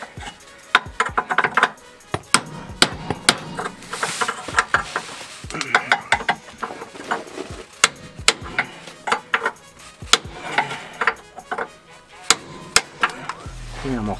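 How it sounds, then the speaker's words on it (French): Repeated sharp metal blows and chopping strikes while freeing a seized, rusty front suspension nut on a Citroën C3 1.4 HDi, with irregular loud impacts and clanks spread across the whole span, close up and without talk. "il ne reste plus qu'à casser l'écrou"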